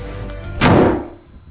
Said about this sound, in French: Le bruit de la porte de Robert réveille Josh.